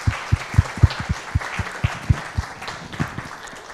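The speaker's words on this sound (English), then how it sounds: "If we could just give them a round of applause." An audience at a photography talk applauding, with a dozen or so distinct, fairly close claps in a loose steady rhythm, reading more like a small group or a few nearby hands than a large roaring crowd.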